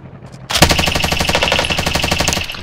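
Rapid automatic gunfire from a weapon in a video game, one loud, close, sustained burst of evenly spaced shots starting after a brief quiet moment and running to the end.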